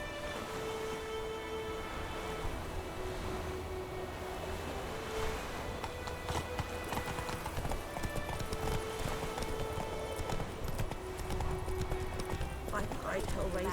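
Roach the horse's hooves clip-clop in a steady, close galloping rhythm in The Witcher 3, with waves washing in the background, a whinny, and voices talking over it.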